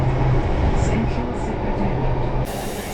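A New Delhi metro train rumbles along loudly, a heavy continuous roar of wheels and carriage noise with faint squeals, close by.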